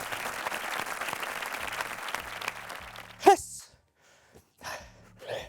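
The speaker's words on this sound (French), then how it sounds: "Les bras hauts et on peut s'applaudir." A small group applauds briefly at the end of a French shadow-boxing K1 workout, a short burst of clapping under an instructor's voice, preceded by steady workout music and followed by near silence and scattered talk.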